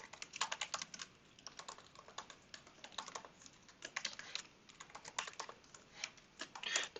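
Typing code on a computer keyboard, quick irregular bursts of clicky keystrokes with short pauses between runs, close and fairly quiet, no talking.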